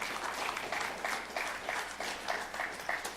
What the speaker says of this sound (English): can we give a big round of applause to our panelists?